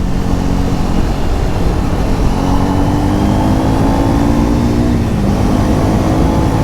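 Triumph Speed 400 motorcycle engine heard while riding, a steady loud drone with rising and falling pitch as the revs change, mixed with wind rush, no talking.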